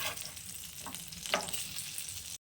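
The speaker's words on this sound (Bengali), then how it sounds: "বেগুনগুলো আমার মোটামুটি ভাজা হয়ে গেছে" Eggplant slices sizzle in hot oil in a frying pan, a soft continuous crackling with a couple of brief stirring scrapes, close and fairly quiet, cutting off abruptly.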